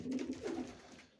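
Pigeons kept by a breeder coo softly nearby, a few low throaty rolling calls over about a second with no voices.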